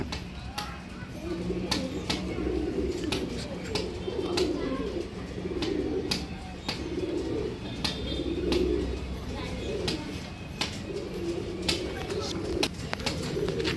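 Female pigeons coo in soft, repeated low rolling phrases, close by, with sharp clicks and faint bird chirps scattered throughout.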